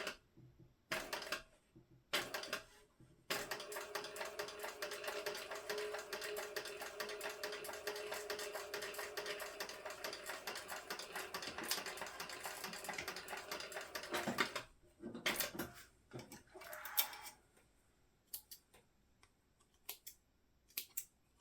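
A sewing machine stitching the flap of a crossbody bag, with a sustained rapid run of stitching in the middle after a few short stop-start bursts, then intermittent brief bursts as it slows and stops.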